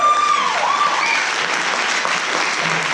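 An audience at a university panel discussion on reggaeton as a dance style applauds steadily for the full three seconds, a dense and fairly loud clapping with no pauses.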